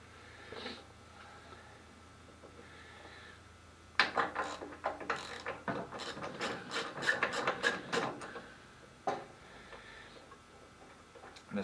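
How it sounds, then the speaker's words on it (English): A ratchet wrench turns out the spark plug on an older single-cylinder Tecumseh snow blower engine, making a close, quick series of clicks that lasts about four seconds after a few quieter taps. "I'm going to go ahead and change the spark plug on here."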